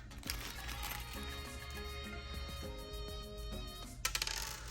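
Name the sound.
metal handgun keys of a Streamlight TLR-1 HL being handled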